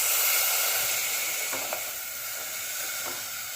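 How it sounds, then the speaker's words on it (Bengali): Milk poured into a hot pan of fried semolina, ghee and dry fruits gives a steady close sizzle and hiss, with a few faint stirring taps and no talking. "এবার আমি অ্যাড করব দুধ পরিমাণ মতো।"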